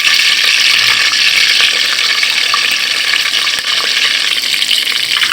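Cloves sizzle steadily in hot oil for a mutton bhuna, a loud, continuous frying hiss running close up without a break and with no talk over it.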